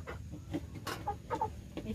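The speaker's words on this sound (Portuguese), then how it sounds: "Vai mostrar uns instantes aí as galinhas" Chickens on a small farm cluck and murmur in short, scattered calls over low background noise, several birds close by in a pen, with no talking.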